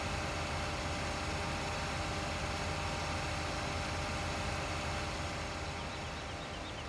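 Steady low drone of a tractor engine idling in Farming Simulator 19, a constant rumble with hiss and no voices, holding at a moderate level.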